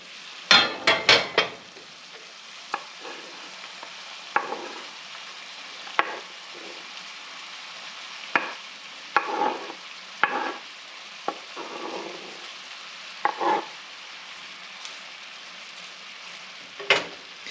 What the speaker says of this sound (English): So let's go ahead and get this added to our skillet.